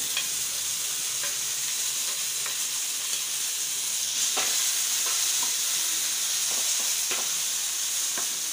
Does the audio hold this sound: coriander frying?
yes